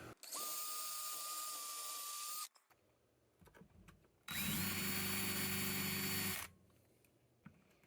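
A power drill drives two support screws into a bed bracket inside a Ford E350 van conversion, two loud sustained whining bursts of about two seconds each, separated by quiet handling noise, with no talking.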